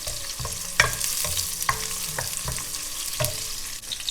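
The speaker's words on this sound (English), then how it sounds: "just slightly roast it" Fish gently roasting in a pan with a soft, constant sizzle and repeated light scrapes and taps of a spoon, close and fairly quiet, with no voice.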